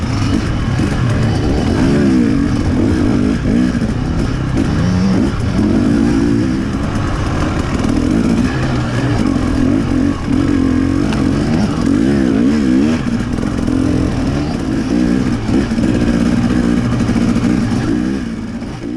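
Dirt bike engines race through tight woods in an enduro, a loud, continuous, close-up engine drone that rises and falls with throttle, with a rough clattering edge.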